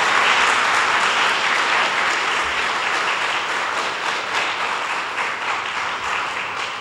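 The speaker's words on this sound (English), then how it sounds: "Let's give all of our contestants a round of applause." Audience applause for contestants at an essay contest event, a dense, sustained crowd of clapping, loud at first and gently tapering across the stretch.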